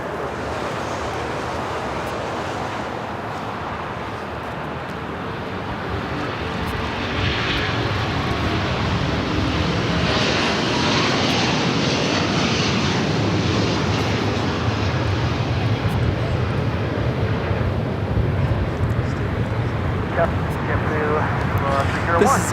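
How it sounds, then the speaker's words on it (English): Asiana Airlines Airbus A380 taking off from runway 25 Left at LAX, its deep jet roar building after a few seconds and holding loud and steady, with a voice talking over it. "This is Asiana Airlines 201 taking off to Seoul on the A380"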